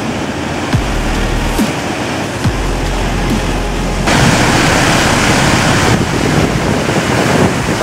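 Atlantic Ocean waves wash against a stony beach in Madeira, a loud rolling roar with gusty wind buffeting the microphone and a surge swelling louder midway.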